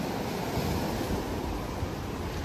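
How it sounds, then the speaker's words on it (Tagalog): Strong ocean waves crash against large rocks at La Punta in Callao, a dense, continuous roar of surf and spray filling the scene with no voices. "Tapos ang lakas ng alon ng tubig."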